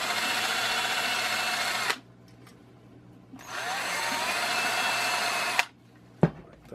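A power drill with a large bit countersinks a screw hole in wood, running in two loud, steady whining bursts of about two seconds each, separated by a quiet gap and followed by brief clicks.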